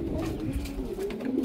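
A young pigeon coos in a low, soft, continuous warble, close and alone, with a steady murmuring tone throughout.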